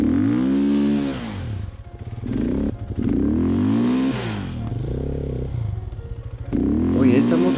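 An enduro motorcycle stuck in mud on the Huayhuash trail in Peru revs hard in repeated swelling bursts, with brief dips between them. The engine is loud and close and strains throughout.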